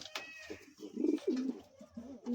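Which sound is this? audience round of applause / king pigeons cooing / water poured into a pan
king pigeons cooing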